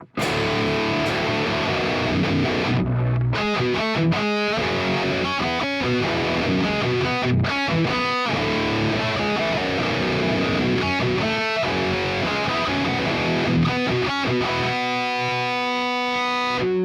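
A heavily distorted high-gain electric guitar tone from a Quad Cortex, playing dense chugging riffs with sharp palm-muted stops and brief gaps, loud and continuous, recreating the tone of a song.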